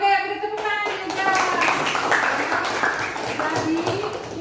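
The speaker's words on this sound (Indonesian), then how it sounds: "beri tepuk tangan juga" A group clapping hands together, a brisk, fairly close patter of claps heard under children's voices and speech that carry on throughout.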